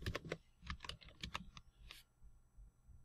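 Quick keystrokes on a computer keyboard while entering data into a spreadsheet, a brisk irregular run of close, crisp clicks that stops near the end, leaving quiet.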